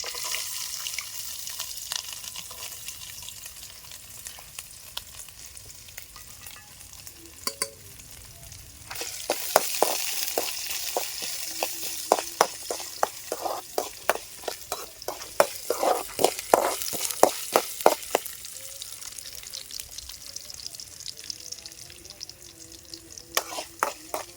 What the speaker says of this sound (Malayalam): ഇനി നമ്മൾ അടുത്ത തേങ്ങക്കൊത്താണ് കേട്ടോ ഇട്ട് കൊടുക്കുന്നത്